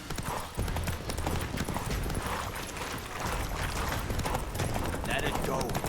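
Roach the horse galloping in The Witcher 3, a steady drumming of hoofbeats close up with game ambience, while a voice speaks over it.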